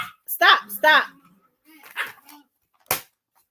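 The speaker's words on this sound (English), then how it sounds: "y'all excuse my dogs." Dogs bark in a few sharp bursts close by, mixed in with a voice talking, then one more short bark near the end.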